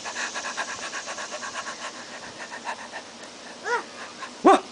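Rapid panting breaths followed by two short, yelping barks that sound like a young voice imitating a dog, close and fairly loud.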